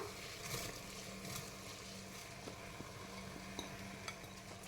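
Soaked rice and dal go into a pan and get stirred, giving a faint, soft sizzle with light scraping and occasional small spoon taps against the metal.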